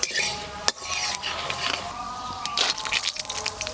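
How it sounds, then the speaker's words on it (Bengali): Mustard seeds, dried red chillies, chana dal and another dal fry in hot oil in a village kitchen pan, with a steady sizzle, a spoon scraping and clinking against the pan, and one sharp knock near the start. "একটু ভাজা ভাজা করে নেবো।"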